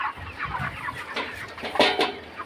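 Broiler chickens about four weeks old cluck during weighing on a farm. The calls are close, busy and overlapping against a steady background hiss.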